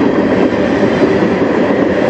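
CN manifest train M492, led by locomotives CN 2944 and CN 2776 on the Strathroy Subdivision, passes at night as a loud, steady, close rumble and roar of rolling wagons, with no talking.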